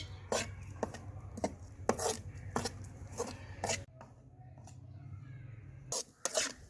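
Ground walnuts cooking in ghee over a low flame for walnut halwa, with a utensil scraping and stirring the pan in steady, sharp repeated strokes over a low background hum, then pausing near the end.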